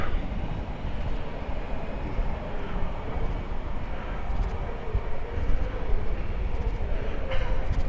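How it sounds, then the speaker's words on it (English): A golf buggy at Ayia Napa Marina, Cyprus, hums steadily as it passes at close range, a continuous low rumble with some rising noise near the end. "golf buggy."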